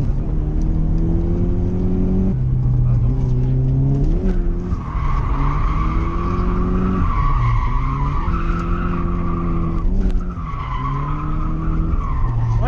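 A Nissan S13 with a CA18DET engine drifts on a track, the engine revving in rising and falling sweeps while the tires squeal and skid loudly and continuously, close by.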